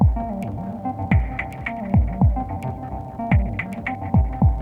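An electric guitar runs through a Finegear Dust Collector multi-effects pedal set to modulated spring reverb with a touch of delay. Several plucked notes bloom and decay in pulsing, throbbing tails, with no talking.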